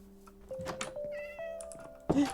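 A cat meows in a Minecraft survival game, a few short clear calls close up over a low steady in-game background hum.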